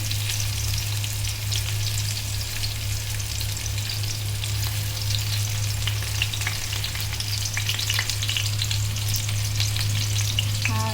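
Onion, chili and garlic frying in hot oil as a tempering for dal, a loud continuous crackling sizzle with occasional stirring, close and unbroken over a low steady hum, no speech.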